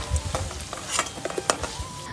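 Potatoes fry in an oily pan, the sizzle broken by a few quick scraping and stirring knocks in a short, close burst.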